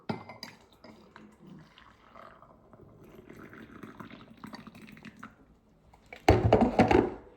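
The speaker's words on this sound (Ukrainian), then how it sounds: "Заливаємо це все кипіточком." Quiet clinks and rustling, then a loud gush of boiling water pouring into a container near the end, close by.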